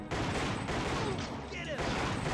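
Rapid gunfire bursts crackle from a shooting video game in a dense, continuous volley, with a voice talking over the shots.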